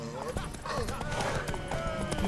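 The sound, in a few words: horse hooves clip-clopping in video game Witcher 3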